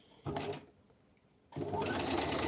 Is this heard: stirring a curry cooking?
no